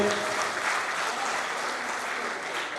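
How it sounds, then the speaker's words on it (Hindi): Audience applause at a school alumni meet, a steady, dense wash of clapping that holds evenly for a few seconds at moderate volume with no talk over it. "एक बार तालियां फिर से"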